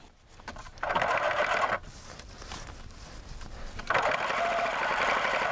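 A sewing machine runs at a long basting stitch length, sewing cording onto a decorator pillow in two loud, close bursts separated by a brief quieter pause.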